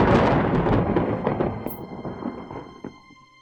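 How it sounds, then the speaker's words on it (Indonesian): Thunder rumbles in a deep, rolling peal that starts loud and slowly fades away over a few seconds, with no voices present. "di mana-mana geledek tandanya mau hujan"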